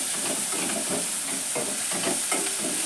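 Onions and broad beans are stirred in a pan for a Telugu home-cooked dish, giving a steady close sizzle with repeated scraping strokes of the spoon through the vegetables and no talking.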